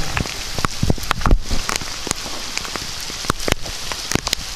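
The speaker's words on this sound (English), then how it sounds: "Rainy, massive amount of water." Heavy rain pours down steadily in a dense wash of hiss, with sharp individual drops and splatters striking a nearby surface throughout.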